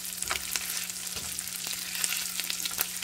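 Tortillas frying in a pan for chilaquiles with chorizo and egg, giving a steady close oil sizzle with faint scattered crackles and a low hum underneath, no voices.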